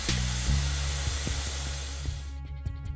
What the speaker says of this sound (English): Carefully loosen the compressed air line on the suspension strut until you hear the sound of air escaping.